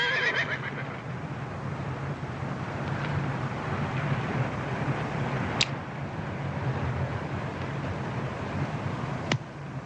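A horse whinnies at the start, then hooves and wind-blown outdoor ambience carry on in a dusty western frontier town setting, with a couple of sharp knocks later and no talking.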